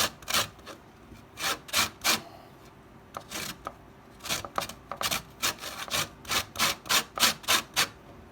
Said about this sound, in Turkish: 4 tanesini dış kabuğundan elinize dikkat ederek, iş güvenliğinizi ihmal etmeden rendelerken parmaklarınızı rendelemeyin.